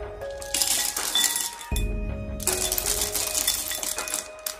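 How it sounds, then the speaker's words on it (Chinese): Cleaned river snails tumble into a bowl with a rattling, clinking cascade of shells, two bursts of hard clattering separated by a short pause, close and loud with no talking. "清洗干净以后倒入碗中备用"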